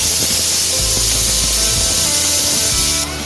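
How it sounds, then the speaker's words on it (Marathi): Masala paste for a prawn and dried fish curry sizzling in hot oil in a pan, a steady close hiss and crackle with soft scraping of stirring. "आता वाटण छान तेल सुटेपर्यंत परतून घ्यायचं आपल्याला."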